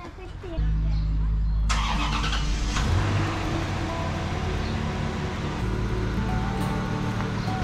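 A car engine starts up in a home garage and settles into a steady running rumble as the vehicle pulls out, loud and close, with people talking nearby.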